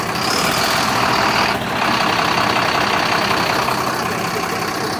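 A large truck idles loudly nearby with a constant heavy engine rumble and a brief dip in the noise as it is eased into position, with no voices.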